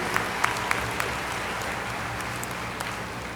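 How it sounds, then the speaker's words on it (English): A commencement crowd at Averett University applauds its international graduates: a steady, fairly faint wash of clapping that holds evenly throughout, with a few sharper individual claps standing out. "A big round of applause to all of our graduates from other countries."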